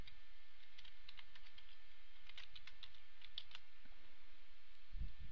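Rapid clicking keystrokes on a computer keyboard, quick bursts and short pauses, near and fairly quiet over a faint steady hum, ending with a soft thump.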